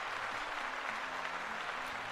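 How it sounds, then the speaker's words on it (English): Round of applause from a crowd, a steady dense wash of clapping lasting about two seconds, moderately loud and with no voices over it. "Round of applause for my bro and yours"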